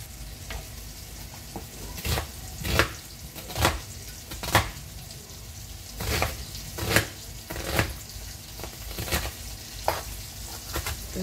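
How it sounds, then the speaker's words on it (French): Knife chopping an onion on a board in a home kitchen after grilling meat, a run of sharp separated thwacks at irregular spacing over a low steady background hiss. "Je vais couper mon oignon."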